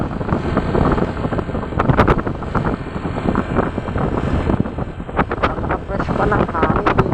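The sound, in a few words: wind on a wide road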